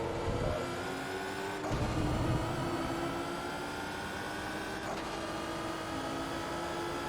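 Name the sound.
race car accelerating out of hairpin in video game Forza Motorsport 2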